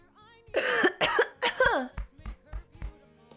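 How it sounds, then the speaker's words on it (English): A string of short, harsh coughs, close and loud, following a few rising vocal sounds, then four or five separate coughs spaced evenly apart. "I just have a really bad cough"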